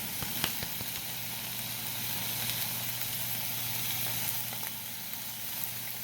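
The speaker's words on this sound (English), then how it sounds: "Hear that sizzle." Steady, faint sizzling of a burger patty frying in a pan, a continuous crackling hiss with a low hum underneath and no talking.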